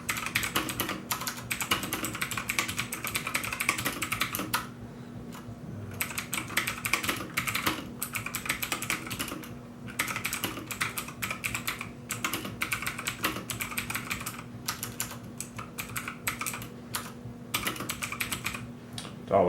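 Steady typing on a new Windows keyboard, a continuous run of close, crisp key clicks with a short pause midway, no talking.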